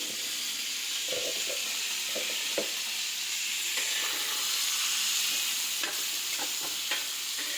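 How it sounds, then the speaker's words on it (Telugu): Curry leaves fry in a small amount of hot oil for tempering, giving a steady close sizzle and hiss with occasional pops and stirring scrapes, no voices. "మళ్ళీ పోపు పెట్టుకుంటాం కదా, అందుకని ఆయిల్ కొద్దిగా వేస్తున్నాను. కొంచెం కరివేపాకు"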